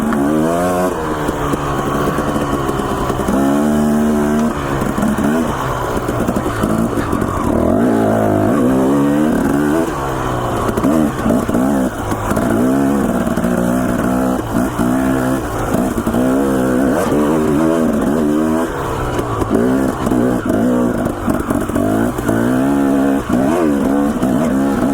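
A dirt bike motorcycle rides a trail in Idaho near Smith Mountain, its engine revving up and down continuously and loudly close by, with no talking.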